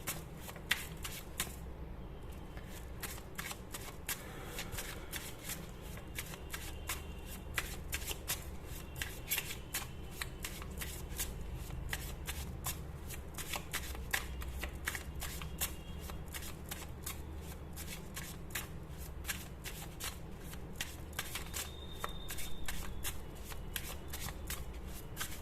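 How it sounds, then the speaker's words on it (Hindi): Tarot cards being shuffled over and over in a continuous, close, soft riffling patter with rapid flicks, set against a low steady background hum. "तो अगर आपको कार्ड शफलिंग पसंद नहीं है तो आप स्किप कर सकते हो"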